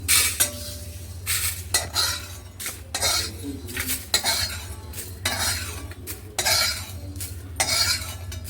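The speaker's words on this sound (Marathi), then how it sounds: "याच्यातच मी टाकते खसखस खसखस पटकन भाजले जाते" Poppy seeds roasting in masala in a pan, dry crackling with repeated bursts of metal spoon scraping and clinking against the pan at an uneven rhythm, close up, with no voices.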